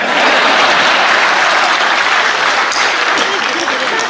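Audience applause at a Hindi hasya kavi sammelan comedy poetry show, a loud, dense and continuous clapping that fills the whole stretch without a break.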